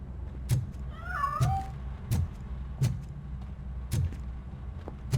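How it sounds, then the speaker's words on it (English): A cat in the video game RoboCop: Rogue City meows once, a short rising-and-falling cry heard fairly clearly over a backdrop of regular, repeated thumping impacts and a low ambient hum, with no speech. "That cat must be hiding inside."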